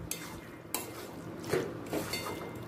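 Ghee being stirred into a bottle gourd and prawn curry in a pan: a few scraping spoon strokes and light clinks against the pot over a faint sizzle, close and quiet, no talk.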